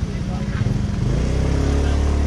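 A motorcycle engine revs steadily through flood water, a loud close low throb with a rising pulsing rhythm, and a voice speaks over it.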